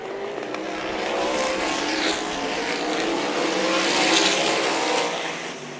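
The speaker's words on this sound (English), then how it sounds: "Stanley's gapping Alberding. He is. And it's because he's driving it sideways" Race cars roaring around a speedway dirt track, one car driven sideways, engines droning loudly and continuously with tire noise and a rising, swelling pass near the end, no talk.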